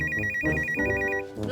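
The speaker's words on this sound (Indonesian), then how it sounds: "Telepon Mas Enop, ya" A mobile phone ringtone plays an electronic melody of rapid, evenly pulsed high beeps for about a second before cutting off, heard clearly at moderate volume.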